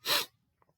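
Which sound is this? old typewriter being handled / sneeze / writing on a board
sneeze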